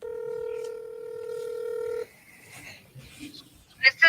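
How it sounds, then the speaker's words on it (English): Telephone call placed on a phone, a steady tone for about two seconds cuts off, followed by faint line noise and then a brief, louder burst. "I'm calling Kaylee."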